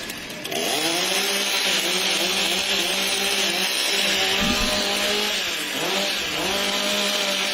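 Several chainsaws revving together at a timbersports competition, a loud, steady buzzing whine held for several seconds with slight pitch dips as the throttles rise and fall.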